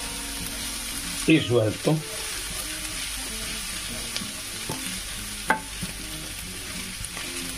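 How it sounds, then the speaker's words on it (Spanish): Rice and other ingredients being sautéed and stirred in a pan, with a soft steady sizzle and a few scraping stirring knocks near the start, while a voice speaks briefly. "Y ahora tienes que sofreír hasta que esté todo bien mezcladito"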